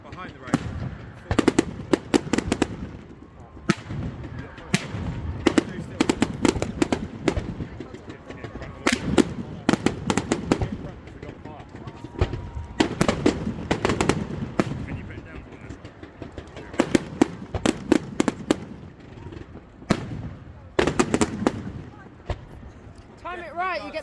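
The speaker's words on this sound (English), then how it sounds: "Time it right, you get the fireworks from that." Fireworks go off at the Seaford bonfire night in Sussex, a long run of sharp, loud cracks and bangs in irregular bursts and rapid clusters, with people talking between the blasts.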